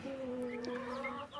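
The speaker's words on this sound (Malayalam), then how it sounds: "നിങ്ങൾ കണ്ടല്ലേ, ഇതാണ് കോഴിക്കുഞ്ഞുങ്ങൾ." Twenty newly bought chicks chirp and peep together in a steady, continuous chorus of thin, high calls, fairly close, with no talking over them.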